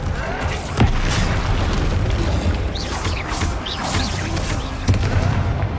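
Confringo fire spell explosions in Hogwarts Legacy during a combat duel, heavy booming bursts and crackling blasts over a continuous rumbling game soundscape, with a couple of sharp impacts standing out.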